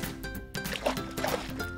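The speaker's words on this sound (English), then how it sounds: "I need to gather up the soil and mix it with the water." Soil is mixed into water to make a mud bath, giving close, wet sloshing and gurgling with some small splashes and a background hum.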